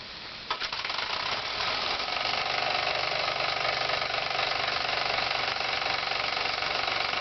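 A Falk 450 overtype model steam engine, heated by a three-wick spirit burner, runs with a fast, steady mechanical chatter and hiss that carries on evenly at close range.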